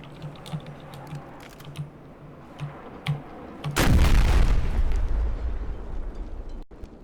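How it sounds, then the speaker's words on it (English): Explosion in Battlefield 4 during a lightning demonstration: a few scattered clicks, then a sudden broad rumbling blast that lingers and slowly fades before cutting off abruptly. "It didn't quite have the boom explosion effect you're looking for"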